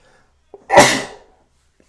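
A single loud, close sneeze bursts out after a brief sharp intake, then silence follows with a faint click near the end.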